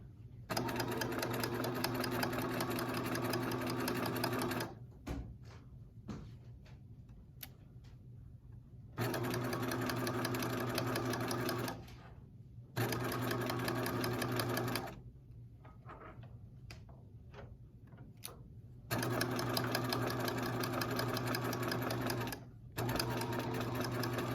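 Sewing machine sewing a bias tape seam finish in several bursts of rapid, steady stitching separated by short pauses with light handling clicks, close and moderately loud.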